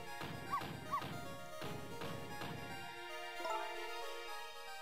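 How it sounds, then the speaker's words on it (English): Missile, the small dog in the video game Ghost Trick, gives a quick series of short yipping barks, loud and close, over steady game music. "No, Missile, you're not supposed to bark."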